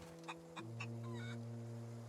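A rooster in the video game The Outer Worlds gives a few short clucks, then low sustained tones of game music or ambience take over, all fairly quiet with no speech.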